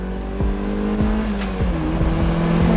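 A Mazda Miata revs hard while drifting, with its engine note rising and dropping in repeated pulls and tires squealing throughout, close and loud.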